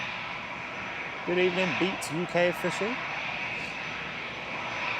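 EasyJet airliner engines at Manchester Airport hum in a steady whine in the background, while a voice speaks briefly over them in the middle.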